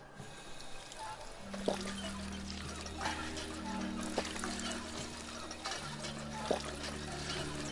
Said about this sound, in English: Well, I need to drink some water.